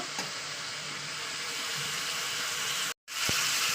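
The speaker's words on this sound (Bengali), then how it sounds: "চলুন দু থেকে তিন মিনিট আমি তেলের উপর ভাজা করে নিই পেঁয়াজ সহ মাংস" Meat and onions frying in hot oil for a spiced meat kosa, a steady close sizzle with a brief cut near the end.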